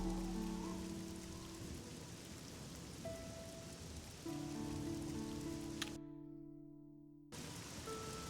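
Steady rain in the video game Oblivion, an even soft hiss with faint sustained musical tones underneath, cutting out almost completely for about a second before resuming.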